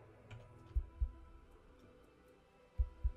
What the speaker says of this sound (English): I can hear a heartbeat, but is that just on the music?